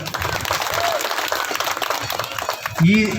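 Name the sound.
audience clapping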